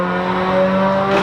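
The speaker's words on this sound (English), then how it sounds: "But this car roars" A 1997 Honda Civic Type R engine roars loudly and steadily from outside the car, a sustained, brief burst of revving.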